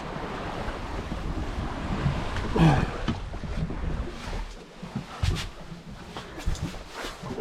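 Ocean waves and short-period swell slosh and crash close by on a sailing boat at Te Anau, New Zealand, amid gusty wind buffeting the microphone, with occasional louder splashes.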